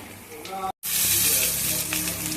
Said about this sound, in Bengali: কালো জিরে কাঁচা লঙ্কা পুরন দিয়ে আলুটা দিয়ে দিয়েছি আলুটা ভাজা ভাজা হয়ে গেছে